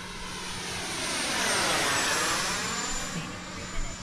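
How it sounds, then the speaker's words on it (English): Freewing Intruder RC jet with an AvantiS v2 ducted fan and motor at full throttle, a loud rushing high-pitched whine that swells as the plane passes and then fades slightly. "Full throttle here."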